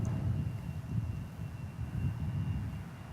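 Qantas Flight 7 airliner arriving from Sydney at DFW Airport, heard as a steady, low, distant engine rumble that holds at an even level throughout with no voices over it.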